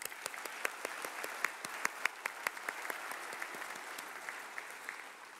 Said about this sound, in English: Let's give another round of applause for our students.